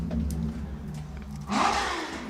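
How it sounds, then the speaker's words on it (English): Motorbikes passing outside a home, a low engine drone that swells into a louder roaring pass near the end, muffled and moderately distant. "Noisy motorbikes."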